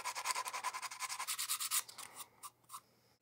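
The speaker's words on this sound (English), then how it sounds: "While I'm at it, I'm going to sand the text off of here." Sanding the printed text off a plastic toy, a rapid run of rhythmic rubbing strokes close up that stops partway through, followed by a few isolated scrapes and quiet.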